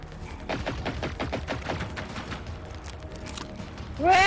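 Rapid bursts of gunfire from the video game Generation Zero, a run of sharp repeated shots in the first half that thins out, ending with a rising tonal sweep.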